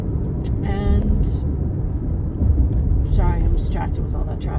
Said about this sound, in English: I'm distracted with all that traffic